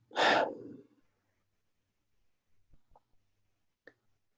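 One long, audible exhale during a guided breathing exercise, loud and close, followed by silence and a few faint clicks.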